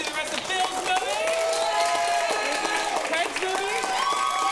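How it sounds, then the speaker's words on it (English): Audience clapping and applause at an improv comedy show, a continuous crowd clap mixed with cheering and voices, with a person talking over it. "really clap super hard for that one. All right, so let's start that round of applause."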